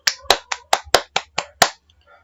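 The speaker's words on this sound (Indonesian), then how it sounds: "silakan berikan tepuk tangan dulu untuk kawan kita ini" Classroom students clap for a classmate in a junior high math lesson, about eight sharp, separate claps in a quick uneven rhythm, close and crisp, ending in near quiet.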